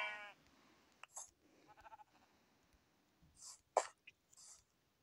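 Sheep bleating in a Minecraft-style survival video game: a few short, quiet bleats scattered among faint clicks and game sounds, with no talk over them.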